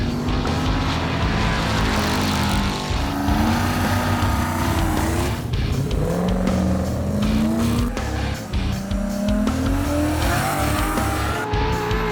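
Loud drag race cars roar down an airport runway during grudge racing at a runway racing event in Australia, with engine notes sweeping up through the gears and tyre squeal, the noise continuous and close for the whole stretch.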